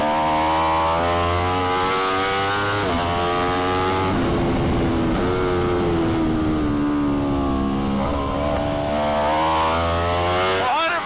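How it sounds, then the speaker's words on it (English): An Aprilia RSV4 X-GP racing motorcycle at full throttle on a track, a loud, close, continuous engine howl with pitch climbing and dipping through gear changes and corners. "Throttle on the RSV4 XGP."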